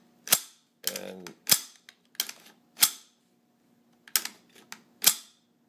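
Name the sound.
AR bolt carrier group cycling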